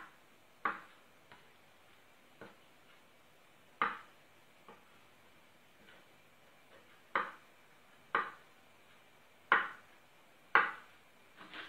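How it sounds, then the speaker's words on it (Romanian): A knife chops ingredients into small pieces for a summer rice salad, each cut a sharp, isolated knock on the board with irregular pauses between strikes, fairly quiet and close. "Și le tăiem așa bucățele."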